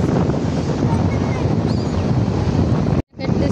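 Sea waves wash along a crowded Konkan beach under heavy wind buffeting, a steady loud roar that cuts off abruptly near the end.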